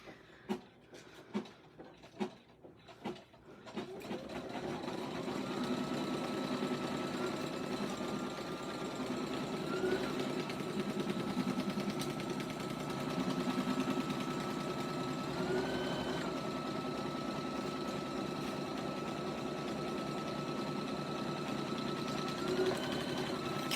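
An embroidery machine runs the final outline stitch on an appliqué sports ball bag tag, humming in a steady, fast, even drone after a few sharp clicks and taps at the start.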